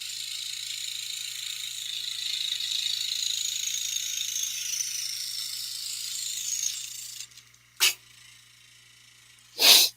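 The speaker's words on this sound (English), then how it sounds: "the blade catching a piece of debris that I had just cut and popping it down below the table" A saw's high whine fades out, then two sharp, brief pops follow a couple of seconds apart as debris is flung away.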